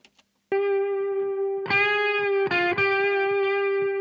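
An electric guitar through a Boss SD-1 overdrive pedal plays sustained, overdriven notes with a gritty, saturated tone, changing pitch a few times over several seconds.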